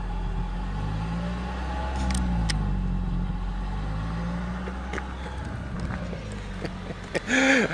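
A 2014 Toyota Avalon Hybrid accelerates at full throttle, its engine drone rising and falling in pitch from inside the cabin, steady and moderately loud, with brief clatter and faint voices toward the end.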